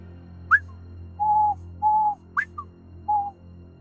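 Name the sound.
imitated coded whistling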